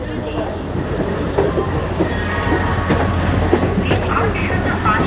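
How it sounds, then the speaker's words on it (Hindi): A passenger train rolls into Howrah Junction station with a loud, continuous rumble and rattling clatter of the wagons. Voices can be heard over the noise. "और आखिरकार हमारी ट्रेन जो है वो अपने निर्धारित समय से करीब 5 घंटे के विलंब के बाद हावड़ा जंक्शन पहुंच गई है"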